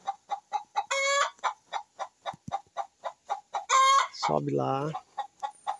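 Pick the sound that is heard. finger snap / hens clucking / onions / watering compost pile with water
hens clucking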